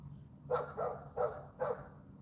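A dog barks four times at fairly even intervals, each bark short and moderately loud over a low steady hum.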